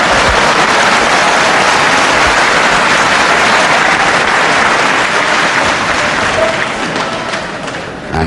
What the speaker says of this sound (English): applauded by the packed to capacity crowd here at this wonderful De Montfort Hall in Leicester